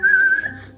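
A person whistles a single sustained, slightly wavering tune note while playing Roblox Among Us, loud and close for under a second and then fading, with no talk over it.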